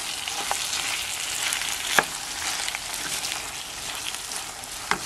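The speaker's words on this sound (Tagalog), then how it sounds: "So, haluin natin." A dish for hardinera, a Filipino meat loaf, is stirred in a pan with diced pineapple in it. There is a steady hiss of soft sizzling, with a few sharp scraping knocks against the pan and no voices.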